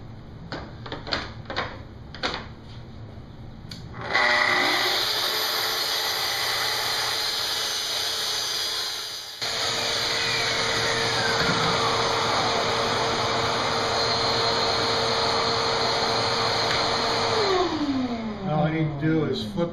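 A Festool track saw trims about an inch off a cabinet panel for a tall shop cabinet. A few clicks come first, then the motor spins up into a loud, steady whine that holds through the cut before winding down.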